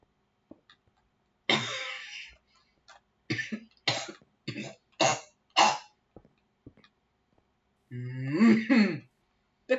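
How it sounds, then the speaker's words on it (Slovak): Repeated coughing and throat clearing from a nearby person, a heavy bout early on followed by several short separate coughs, then a rougher throaty clearing near the end, with quiet pauses between. "Pekný kašlisko."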